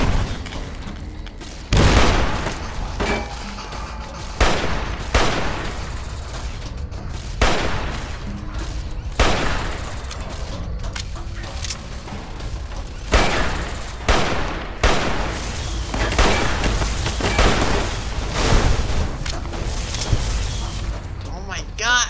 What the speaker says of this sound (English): Whoa, that guy's shooting rockets!